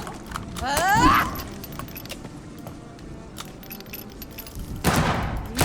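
Gunfire in the video game Vampyr comes as two loud, close bursts of rapid shots, one early and one near the end, with quieter game noise between them.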